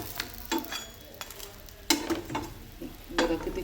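A homemade Maharashtrian-style pizza sizzles on a hot tava griddle as it is flipped. A steady frying hiss is broken by several sharp scraping and clattering bursts, close by, with no one speaking.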